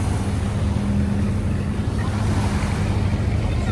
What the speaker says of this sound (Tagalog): Ang dami ring mga dumarating ng bangka.